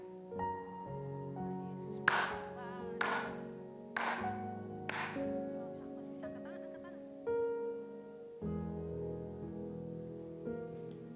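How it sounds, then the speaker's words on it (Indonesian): A church congregation claps in four sharp bursts over sustained worship music with singing, with more clapping later as the song continues. "Selama engkau bisa tepuk tangan."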